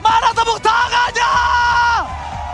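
An esports crowd at a Mobile Legends grand final cheers loudly, yelling and whooping together in one long, rising roar with a few sharp bursts, while a caster's voice rides on top of it.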